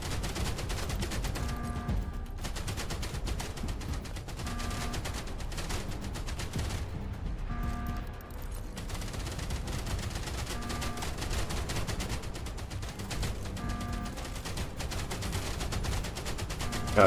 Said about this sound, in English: Yep, okay, so these turrets are...